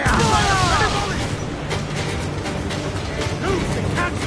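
Ship cannons fire in Assassin's Creed Black Flag: heavy booms roll out over a continuous roar of sea and battle, loud and dense, with shouting crew voices mixed in.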